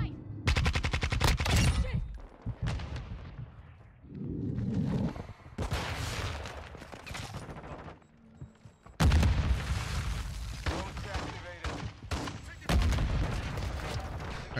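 Rapid bursts of automatic gunfire from a sentry gun and other weapons during Modern Warfare 2 gameplay, loud and close, sounding as sharp rattling volleys separated by brief pauses, with thuds and game noise between them.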